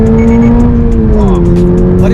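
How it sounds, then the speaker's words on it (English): After a downshift, the tuned exhaust of a 2024 Subaru BRZ tS drones with a steady, bassy tone, then its pitch slides a step lower and holds, heard loud and close inside the car. "it sounds just like the regular BRZ"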